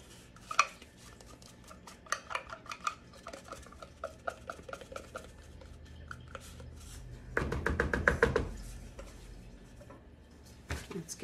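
Quiet scraping and clinking of a utensil stirring bath bomb ingredients with red number 40 dye in a bowl, irregular taps and a louder burst of rapid stirring partway through, no voices.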